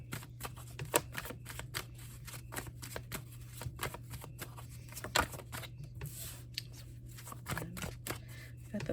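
A deck of tarot cards shuffled close by, soft riffling flicks and snaps in an uneven rhythm over a steady low hum, fairly quiet throughout.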